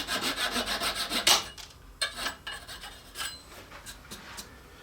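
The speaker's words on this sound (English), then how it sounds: "And then we'll give it a sanding" A wooden plug, just cut flush with a flush-cut saw, is sanded down level with the surrounding stock, giving a close, fairly loud run of dense abrasive rubbing strokes that fades into shorter, lighter, intermittent passes.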